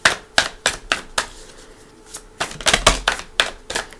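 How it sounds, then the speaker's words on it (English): A tarot deck is shuffled by hand in a quiet room, giving a run of sharp, uneven card slaps and taps, with a short pause midway before a denser burst. "Alright, let's shuffle."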